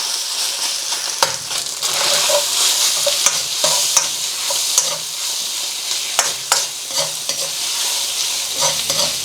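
Chicken pieces fry and sizzle steadily in hot oil in a pan, a dense continuous hiss broken by scattered sharp clicks and stirring scrapes, close and with no talk.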